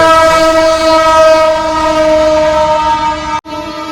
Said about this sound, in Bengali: আর পেছন দিয়ে ট্রেন